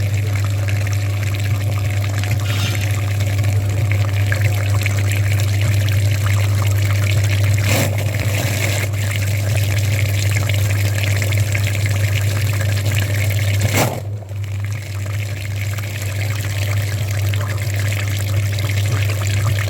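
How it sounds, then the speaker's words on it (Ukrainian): Dirty water gushes and pours steadily from a Daewoo Nexia heater radiator during a cooling system flush, with a constant low pump hum underneath, continuous and close, with a brief clunk partway through. "показати вам, що буде сипати з радіатора пічки"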